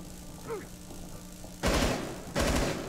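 Bursts of gunfire erupt twice in Rainbow Six Siege on the Kafe Dostoyevsky map, loud and close, with a few faint sounds before them.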